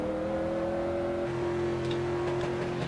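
Street car engine in iRacing at Charlotte Motor Speedway, a steady loud droning whine holding a constant pitch that shifts slightly midway, with a faint rattle near the end and no talk.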